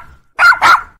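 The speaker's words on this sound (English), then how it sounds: "Dog." Two quick, loud dog barks close by, one right after the other, with silence around them.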